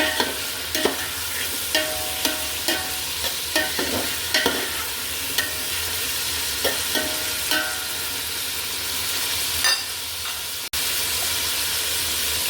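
Grated bottle gourd stirred with ghee in a pan: a steady soft sizzle broken by rhythmic spatula scrapes and knocks roughly every second, close by, with a brief sharp click near the end.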